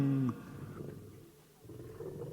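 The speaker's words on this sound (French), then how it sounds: "Et le lion rugit d'une telle voix qu'il affola tous les autres jouets." A lion roar sound effect from a French children's story recording, a deep rumbling growl that swells and fades, with the narration absent.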